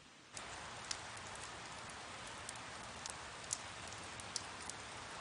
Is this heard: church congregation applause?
no